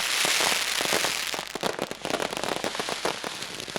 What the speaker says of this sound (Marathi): फटाक्यांची आतिषबाजी